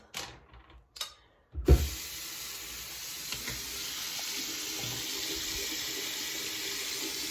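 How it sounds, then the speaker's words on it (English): Tap water runs steadily from a faucet into a bathroom sink during a wash-up, starting abruptly after a few faint knocks and continuing as a close, even hiss to the end. "I'm about to wash my mouth"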